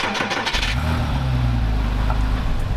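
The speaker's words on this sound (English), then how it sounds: "Let's take a look at what this car sounds like on startup" A Porsche 987 Cayman S or Boxster S engine cranks and catches, then settles into a loud, steady idle nearby.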